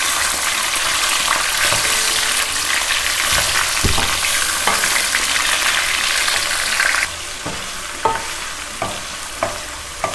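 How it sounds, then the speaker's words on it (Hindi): Half a kilo of chicken fries with browned onions in a pan, a loud continuous sizzle with stirring scrapes and knocks; the sizzle eases partway through while the stirring clatters continue. "अब इसमें चिकन डालेंगे, हाफ केजी तकरीबन। इसे इसके साथ ही फ्राई करेंगे।"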